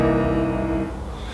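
A dominant 7#9 chord voicing struck once on piano, ringing clearly and sustaining before gradually fading, with no talking.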